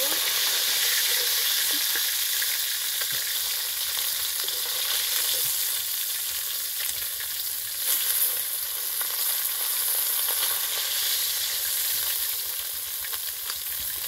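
Pieces of fish, including pakal fish, sizzling and frying in hot oil in a pan, a steady dense crackling hiss that continues unbroken at close range with no voices.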